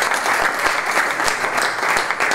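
Steady applause from a crowd at a futsal team presentation, many hands clapping together in a dense, continuous patter.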